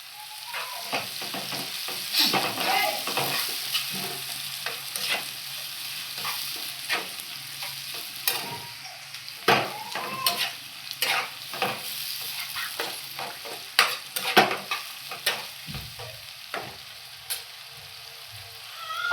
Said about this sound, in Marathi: कांदा व्यवस्थित भाजलेला आहे.